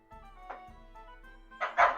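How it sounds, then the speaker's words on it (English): Dogs bark at home in the morning: a few sharp barks and yips nearby, spaced irregularly, with a louder double bark toward the end. "accompanied by your dogs barking."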